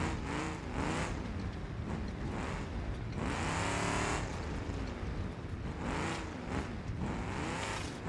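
Off-road Hopper in BeamNG.drive, its engine revving up and down in repeated surges with rising and falling pitch, a gravelly drone close and continuous across the drive.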